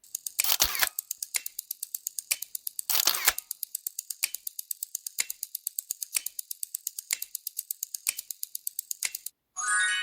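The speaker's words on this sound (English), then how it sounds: "That was a camera shutter, capturing a magical moment, no doubt." A camera shutter clicks in a long, fast, evenly spaced series of crisp mechanical snaps, close and clear, with a few louder, noisier bursts mixed in.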